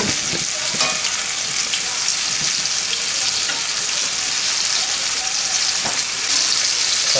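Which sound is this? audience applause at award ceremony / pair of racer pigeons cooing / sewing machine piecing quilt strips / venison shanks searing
venison shanks searing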